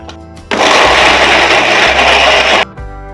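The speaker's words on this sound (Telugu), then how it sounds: "ఇంకా మనము మిక్సీ జార్లో వేసుకొని మిక్సీ పట్టేసుకోవాలి" Mixer grinder running loud and steady for about two seconds as it grinds mango ginger chutney ingredients in a mixie jar, starting and stopping abruptly, with a faint hum before and after.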